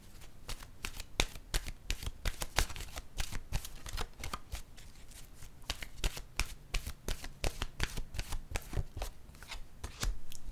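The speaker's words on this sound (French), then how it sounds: "je vais piger une carte de mon oracle de l'âme intuitive" A deck of oracle cards is shuffled by hand, producing dense, rapid riffling and slapping taps that continue steadily and close-up without speech.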